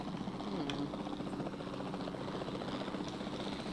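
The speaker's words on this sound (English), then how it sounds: "Then the sensible thing is to take a capture team helicopter." A capture team helicopter in the video game Jurassic World Evolution drones steadily with a continuous whirring rotor and engine roar, fairly loud and unbroken throughout, with no talking over it.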